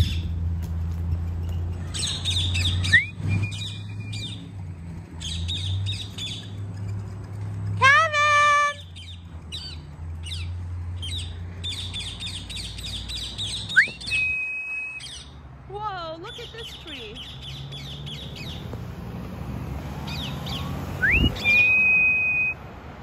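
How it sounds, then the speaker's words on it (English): Wild Amazon parrots in a tree give repeated whistles and squawks, some rising sharply, over a low rumble of outdoor background noise. "Look at this tree, it's full of wild Amazons."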